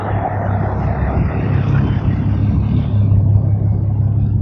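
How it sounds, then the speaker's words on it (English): Steady road traffic surrounds an e-trike on a morning ride, a continuous low engine rumble and tire roar from passing cars, close and fairly loud with no one talking. "So here we are in traffic again."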